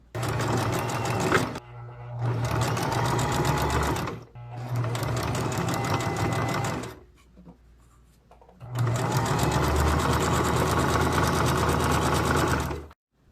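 Sewing machine stitching a small zigzag on ribbon for a shirt, loud and close, running in three steady bursts with short pauses between them.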